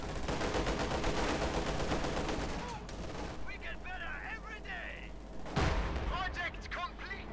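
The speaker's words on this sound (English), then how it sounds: "Lapsing gun fire from the nearby building." Gunfire from the Company of Heroes 2 strategy game crackles in bursts at moderate loudness, including machine-gun volleys and a sharper blast midway, mixed with game effects and faint voices.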